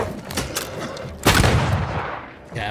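Gunfire in Banishers: Ghosts of New Eden, a few sharp shots at the start, then a loud blast with a decaying tail and another burst at the end, set against game ambience.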